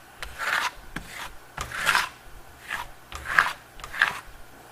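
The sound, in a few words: applying Stucco Metallo metallic lime venetian plaster to wall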